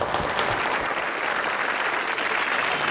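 An audience on an Indian television dance show applauds loudly and steadily, a dense wash of clapping that holds at full strength for about three seconds with no voices over it.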